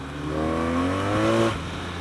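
A 2016 BMW R 1200 RT motorcycle engine revs up close by, its pitch climbing steadily for over a second before dropping off abruptly, loud and alone without talk.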